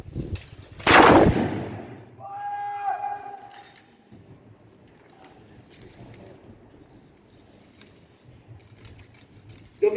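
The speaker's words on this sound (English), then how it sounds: "so they're just holding ground with skirmish fire" A single historical rifle fires in a fort drill and shooting display, one sharp, loud crack early on, followed by a faint tone and quiet outdoor ambience with soft wind noise.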